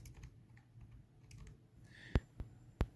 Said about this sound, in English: we're going to go to the Stat button and we're going to type in all of this